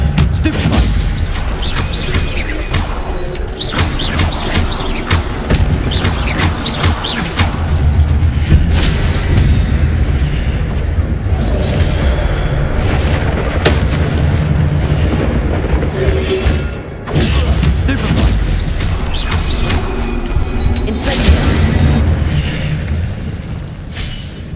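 Spell blasts and explosions from a wizarding video game: heavy booming impacts and crackling bursts pile up continuously, loud and dense, with a short dip before the barrage resumes.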